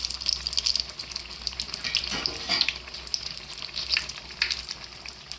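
Bottle gourd bajji fry in hot oil, a close, steady bubbling sizzle with crackling bursts and a brief stir partway through, with no talk.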